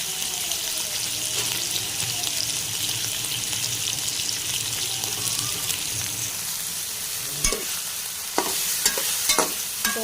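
Chicken and carrots fry in a pan with a steady broadband sizzle, and a spoon stirs them throughout. A few sharp clacks near the end come from a utensil striking the pan.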